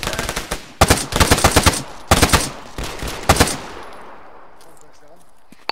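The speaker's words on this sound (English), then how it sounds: "Shots, close!" Close, loud bursts of automatic gunfire in a military video game set on Altis, several rapid volleys in quick succession followed by a fading echo and near silence.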